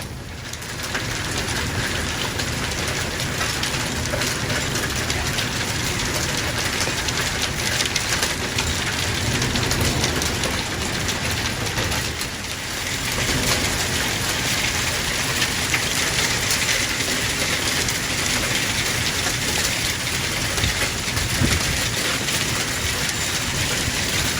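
Hail and heavy rain pound down steadily during a storm in Fort Worth, Texas, a dense, continuous hiss and patter of falling ice and water on the ground, loud and unbroken with no voices.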